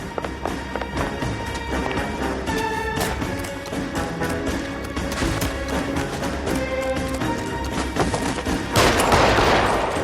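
A dense, continuous run of gunshots from the video game LA Noire, with rapid overlapping shots and some clattering effects, staying steadily loud across the whole stretch.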